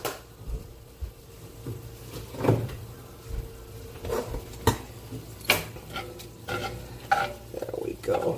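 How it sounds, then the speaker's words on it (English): Ground beef with a little garlic and onion browns and sizzles in a cast iron pan, with steady frying hiss punctuated by repeated scrapes and stirs of a utensil and an occasional clack of cookware nearby. "Ground beef was frozen when I started, but it's all thawed now. Browning nicely."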